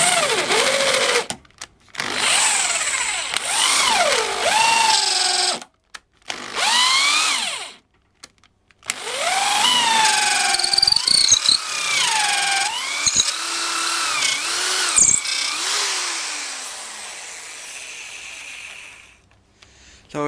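A Black and Decker KR705K two-speed corded hammer drill whines in bursts, its motor pitch rising and falling as it bites into material, with short pauses between runs and a quieter tail.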